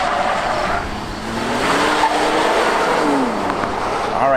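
A 2018 Infiniti Q60 Red Sport on Bridgestone Potenza summer tires launches hard and pulls up through its gears, a loud close engine note with rising pitch sweeps and brief tire noise between shifts.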